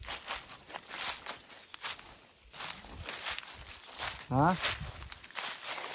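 Footsteps crunch along a forest mountain trail, uneven and close, scuffing dirt and leaves in a loose walking rhythm. People talk over them now and then.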